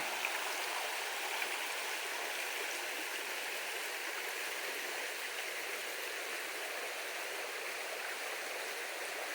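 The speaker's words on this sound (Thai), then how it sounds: "ติดลำธารใกล้มากค่ะ ใกล้ลำธาร" A forest stream in Sweden flowing close by while wild mushrooms are gathered, a steady, even rushing and burbling of water that continues alone without pauses or voices.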